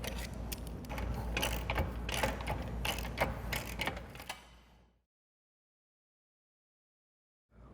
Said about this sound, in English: Once the 4 bottom bolts are tightened, tighten the 2 upper ones to specification.